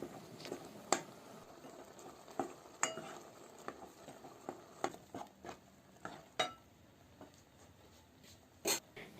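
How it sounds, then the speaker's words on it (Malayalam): A spoon mashing cooked raw mango in a pot for Kerala-style curry, faint irregular scraping and knocking clinks against the pot, close and quiet with no speech. "മാങ്ങ നന്നായിട്ട് വെന്ത് കിട്ടിയിട്ടുണ്ട്. അപ്പം ഞാനിത് ഒന്ന് ഉടച്ചെടുക്കുകയാണ്."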